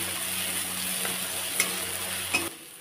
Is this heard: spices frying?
yes